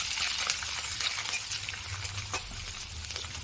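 Garlic, dried red chillies and chana dal sizzle in hot oil in a pan, a steady close crackling fry with faint stirring, no talk.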